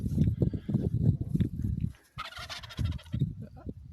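A wild turkey gobbles in rapid, throaty bursts up close, with a short break and then a rattling, higher-pitched run of calls.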